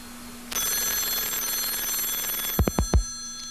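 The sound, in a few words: telephone ringing as call reaches a computer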